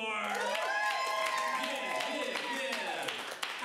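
Audience applause and cheering in a comedy theater, a full crowd clapping and whooping continuously at close range before fading out.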